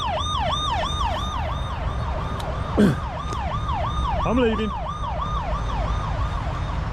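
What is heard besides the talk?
alarm siren going off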